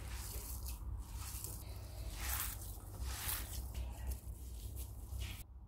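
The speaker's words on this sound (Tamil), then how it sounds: "மசிச்சு விட்டுக்கலாம்." Soaked poha (flattened rice) is mashed by hand in a bowl, giving soft, wet squishing and squelching sounds in an irregular rhythm, close and quiet, with no talk.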